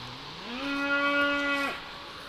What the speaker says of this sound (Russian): Коровы орут.